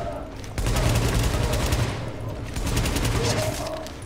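Heavy gunfire aimed at a deployed turret in the game The Division, a sustained loud burst of rapid automatic shots that kicks in sharply and rattles on, with a voice talking over it.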